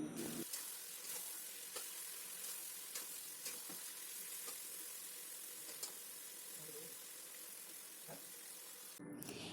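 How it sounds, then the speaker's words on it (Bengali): Chicken pieces stirred with spices in a pan over a low gas flame give a quiet steady sizzle of frying, broken by faint scraping stirs and small clinks from start to finish. "এবার চিকেনটাকে মশলার সঙ্গে ভালো করে মিশিয়ে দেব এবং গ্যাসের ফ্লেমটাও কিন্তু এই সময় থাকবে একদম লোতে।"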